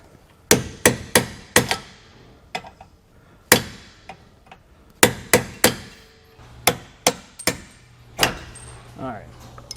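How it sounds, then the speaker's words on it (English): Sharp metallic hammer strikes on a punch knocking out a bolt, in irregular bursts, several quick blows in a row, with pauses between groups and faint shop noise underneath. "I'm going to use a punch, and I'm going to hit it directly in the center of that bolt"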